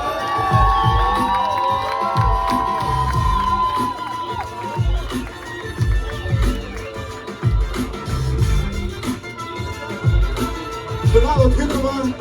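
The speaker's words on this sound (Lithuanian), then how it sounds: "Jūsų plojimai!" An audience at an MC rap battle final cheers and shouts loudly and continuously, with whoops and rising surges of crowd noise throughout.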